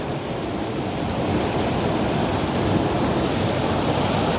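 Creek water rushes steadily over broad flat rocks near a waterfall, a dense, continuous close-up wash of flowing water with no voices.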